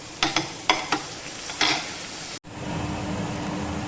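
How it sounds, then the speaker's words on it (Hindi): Finely chopped onion fries in a pan with a soft, steady sizzle, broken at first by several sharp scrapes and clatters of stirring. A sudden cut leads into a louder, even sizzle. "1 प्याज को हमने जो बारीक फाइनली चॉप किया था उसे हम इसके अंदर ऐड करेंगे और हल्का हल्का सा भूनेंगे।"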